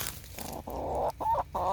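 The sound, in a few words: backyard chickens clucking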